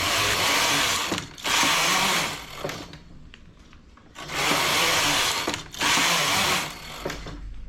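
A knitting machine carriage sliding back and forth to knit rows for a ribbed collar, loud whirring passes of about a second each, separated by brief quieter pauses, close and with no talking.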